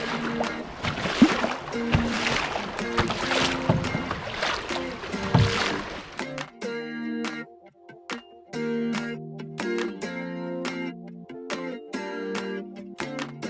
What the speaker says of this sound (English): let's jump in the canoes, paddle across the lake